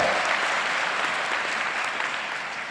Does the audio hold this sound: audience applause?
yes